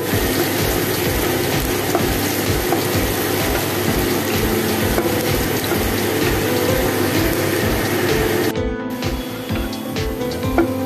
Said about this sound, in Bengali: এবার এখানে আমি আদা কুচি আর কাঁচা লঙ্কা কুচি দিয়ে দিলাম। এবার এখানে আমি একটু এটাকেও ফ্রাই করব।